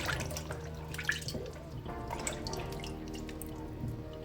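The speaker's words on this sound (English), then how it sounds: "rinse everything off very well." Tap water running into a kitchen sink while salad ingredients are rinsed, a steady close trickle with scattered drips and light splashes, no talking.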